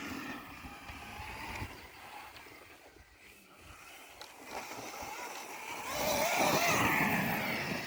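An Arrma Mojave 6S brushless RC car driving at about three-quarter throttle, its electric whine rising and falling at a distance, then swelling louder and higher as it speeds past near the end.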